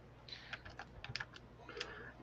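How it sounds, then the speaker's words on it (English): Computer keyboard typing in short irregular bursts of keystrokes, fairly quiet and close, with no voices. "I was typing that out"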